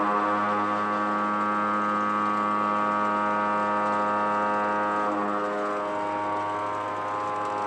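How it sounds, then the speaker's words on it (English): A shell mill with an 80 mm cutter and seven inserts takes a light peripheral cut on a 3x6 inch steel block on a 25 horsepower milling machine, giving a steady, loud tonal drone with layered harmonics that shifts slightly partway through. "We're going to start with a light cut on the periphery of this 3x6 inch steel block."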